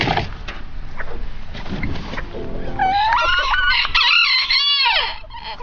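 Rooster crowing with chicken clucks from a pair of chickens: a stretch of scratchy clucking and rustle, then a loud drawn-out crow with rising and falling calls, close and clear.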